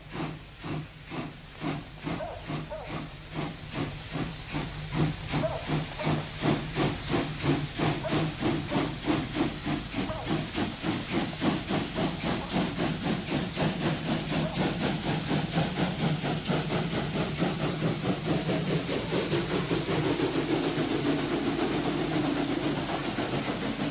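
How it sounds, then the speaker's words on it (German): Reichsbahn class 86 steam locomotive, a loud continuous steam hiss with rapid rhythmic chuffing that speeds up and blends into a steady roar as it pulls away. "Zwischen Schlettau und Krottendorf dampft noch regelmäßig 86-1501."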